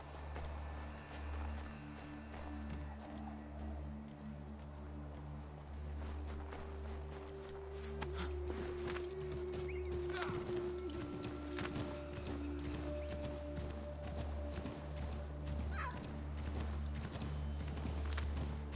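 Hooves clip-clop steadily as a horse is ridden in Assassin's Creed 3, a repeated near thudding rhythm over a low droning game soundscape with occasional tonal cues.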